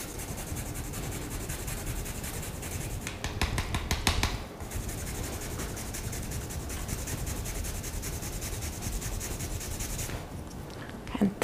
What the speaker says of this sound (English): grate a little fresh ginger into it.